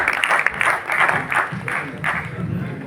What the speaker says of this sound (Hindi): इन कवियों के लिए और जोरदार तालियां बजा रहे हैं